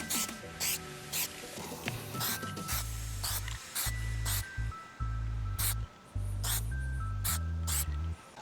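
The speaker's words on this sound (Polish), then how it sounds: "ostatni raz popsiukałem, teraz musimy dać temu wyschnąć" Aerosol Plastidip spray coating the badges of a Seat Leon Cupra, a series of short hissing bursts in an irregular rhythm, close and fairly quiet, alone with no talking.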